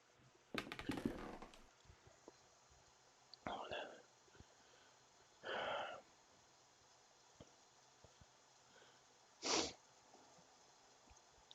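A few sharp, breathy sneeze-like bursts break a quiet room, spaced several seconds apart, with faint sniffs between them.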